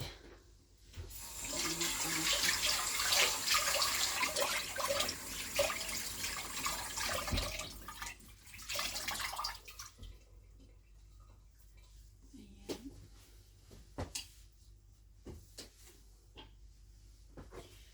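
A kitchen tap runs while hands are washed in hot water before making carrot and mixed vegetable soup, a close steady rush for about nine seconds, followed by quieter clinks, knocks and a cupboard shutting.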